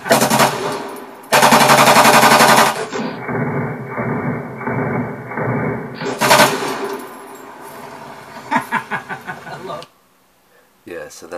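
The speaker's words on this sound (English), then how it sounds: "So that's a Draco machine pistol." A Draco machine pistol fires loud, close bursts of rapid automatic gunfire, then a shorter string of separate shots before the noise cuts off.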